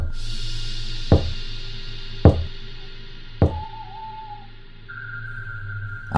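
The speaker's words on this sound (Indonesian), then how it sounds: "Suaranya lambat, dan jeda ketukannya agak lama." Three slow, spaced knocks on glass, each a sharp single rap separated by long pauses, over a quiet background hum with a faint tone.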